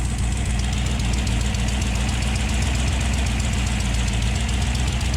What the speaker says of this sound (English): this engine's quiet. I mean, besides, you know, the sound of the engine itself